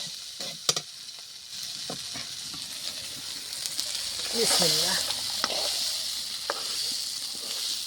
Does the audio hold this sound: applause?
no